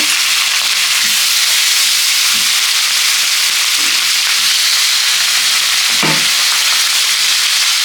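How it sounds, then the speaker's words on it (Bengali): Rohu fish heads frying in hot oil with turmeric, a loud continuous sizzle and hiss with a few soft stirring knocks, no voices. "মাছের মাথাগুলো ভেজে নিব"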